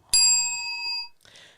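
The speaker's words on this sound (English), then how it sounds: "I got rid of the rant bell." A single bright bell ding used as a sound effect, a sharp metallic strike that rings out with a long clear tone and fades over about a second, followed by a brief faint rustle.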